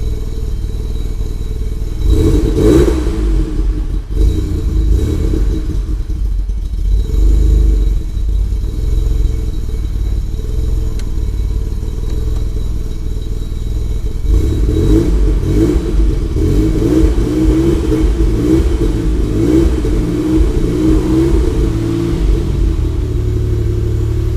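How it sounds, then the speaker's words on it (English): A Citroën SM with a Maserati V6 engine drives past, its engine note rising and falling through repeated revs and acceleration, loud and close, with no talking. "A gorgeous engine sound, a true Maserati even though it's a V6."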